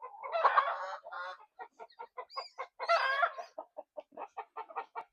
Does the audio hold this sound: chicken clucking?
yes